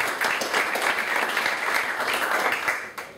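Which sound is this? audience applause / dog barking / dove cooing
audience applause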